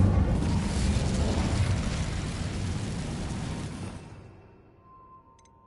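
An Incendio fire spell in a Hogwarts video game erupts in a loud, roaring burst of flame that rumbles for several seconds before dying away to near silence.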